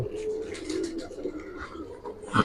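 Giribaz pigeons coo softly and repeatedly in a loft, close by and fairly quiet, with a brief sharper rustle at the end.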